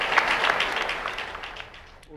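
A church congregation claps together, a brief dense burst of applause that tapers off and fades within a couple of seconds.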